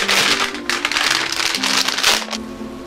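Crinkly plastic packaging being torn and handled while opening a newly ordered camouflage-patterned Beams wallet, a close, rustling burst of crackling that fills the few seconds, with faint talk underneath.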